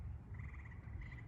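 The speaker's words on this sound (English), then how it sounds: "Frogs come out to hop about and splash in the puddles." A frog croaks near rain puddles in spring, making two faint, buzzy trills in quick succession over a low background rumble.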